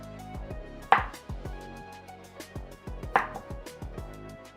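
A knife slices garlic cloves on a cutting board for a chili garlic shrimp dish, making quick repeated soft taps with two sharper knocks, close and fairly quiet, no voices.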